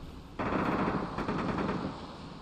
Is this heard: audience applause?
no